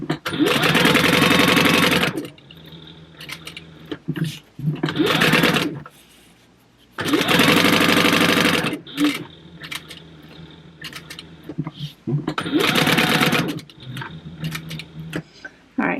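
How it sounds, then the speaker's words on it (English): Sewing machine chain stitching fabric pieces about a quarter inch from the edge, running in loud, close whirring bursts of a second or two with quiet pauses between, and a few shorter spurts. "I'm going to go ahead and just keep making all 4, and I'm just going to kind of chain stitch them one right behind the other"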